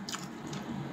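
Close, wet bites and chewing on a burger made with burger patties: two or three squishy, crunchy bites within a second, with no talk.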